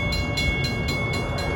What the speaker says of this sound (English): Comes a westbound M3 over the crossing